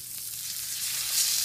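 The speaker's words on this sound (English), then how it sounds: "stick these in a hot skillet with some olive oil" Tilapia fillets fry in olive oil in a hot skillet with a steady crackling sizzle, soft and close, swelling slightly louder toward the end with no voices.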